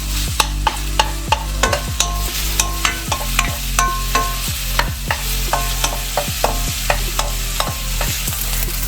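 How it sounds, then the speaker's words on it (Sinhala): Sausages stir-fry in a pan for Korean kimchi fried rice, a steady sizzle broken by a regular rhythm of sharp spatula clacks and scrapes against the pan, close and loud. "මේ විදිහට විනාඩි දෙකක් පමණ මේ ෆ්‍රයි කරගන්නවා සොසේජස් ටික"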